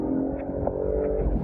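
An Audi RS5 4-litre engine drones steadily and loudly from close by, with a low rumbling tone that rises slightly as it revs.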